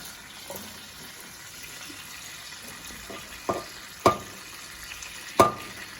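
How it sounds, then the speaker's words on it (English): Mixture dumped into a hot pan holding a rib roast: a low background sizzle with three sharp clattering thuds near the end, spaced about a second apart, close and moderately loud. "now we're just going to throw it into the pan with the rib roast"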